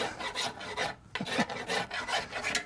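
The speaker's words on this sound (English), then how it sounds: "while it's cold, scrape this grease off so you don't have a grease fire" Close, steady scraping as grease is rasped off the inside of a cold kamado grill, repeated strokes in an irregular rhythm at low volume with no talking.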